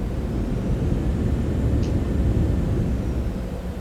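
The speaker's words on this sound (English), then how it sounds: "let's test reversers" Thrust reversers on a Cessna Citation C750 jet in MSFS 2024 roar as a steady, loud, broad rush of engine noise that holds unchanged throughout, with no talking.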